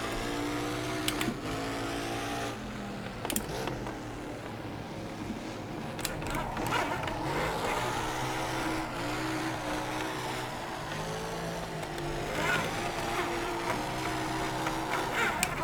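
A Nissan S13 drifting around Tsukuba in the racing game Assetto Corsa: a steady, high-revving engine whine with shifting pitch and occasional tire squeal bursts, playing on without pause.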